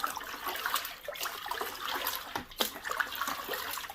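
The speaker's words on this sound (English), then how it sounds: "there's probably 6-7 ounces of rehydrating solution. I just dump it in" Rehydrating solution is dumped from a cup into a container, a short burst of splashing and trickling liquid, fairly close and quiet, with uneven gurgles and drips and no talking.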